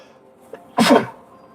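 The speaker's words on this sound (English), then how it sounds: "I can tell this is an allergy sneeze." A single loud, explosive allergy sneeze right up close, preceded by a faint catch of breath and followed by quiet.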